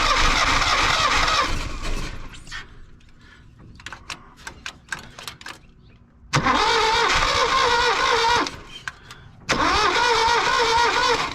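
A 1967 Toyota Stout engine cranking and catching several times, loud close bursts of rough running separated by quiet gaps with clicks and fiddling, the engine firing up again and running briefly each time.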